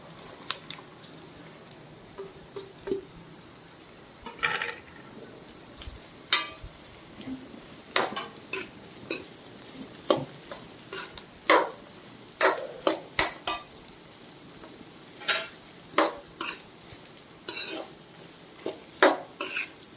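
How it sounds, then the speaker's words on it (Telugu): Carrots stir-fried in a pan, a soft background sizzle broken by repeated sharp scrapes and clinks of a spoon tossing them against the metal, irregular and close. "మనం క్యారెట్ని యాడ్ చేసేద్దాం."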